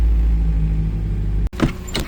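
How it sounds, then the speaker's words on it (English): A Mini car's engine idles steadily with a low drone, then a sharp cut near the end gives way to a brief whirring mechanical sound, heard up close with no talk. "Now the Mini is running."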